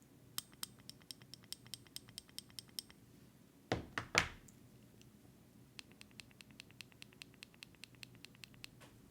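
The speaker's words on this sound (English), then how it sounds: "This is airbrush ASMR with Topulus." Airbrush trigger clicked repeatedly in quick, even bursts, with a short loud hiss of air in the middle, close and isolated with no talking.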